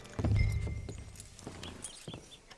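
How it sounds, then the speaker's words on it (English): Horse hooves in Red Dead Redemption 2 clip-clop at a slow walk, a few clear, close steps that fade quickly, with no talking. "Hitch your horse up here."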